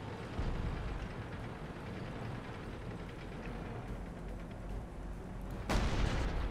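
A tank gun fires a single heavy shell in World of Tanks. A low engine rumble runs steadily throughout, then one abrupt, booming blast breaks in near the end.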